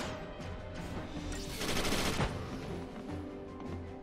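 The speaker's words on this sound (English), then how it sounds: "both Kado and LeBru are firing two-handed weapons" Rapid gunfire from characters' two-handed weapons, including a rifle and an SMG, in the video game Final Fantasy XIII, a dense burst of shots swelling midway over a continuous game soundtrack.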